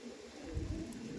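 Andhra pigeons, a male and a female, give a low, soft cooing that swells briefly at close range over a faint background hum.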